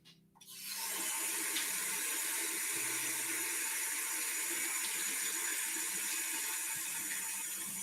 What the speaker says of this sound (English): rinse these off and dry them.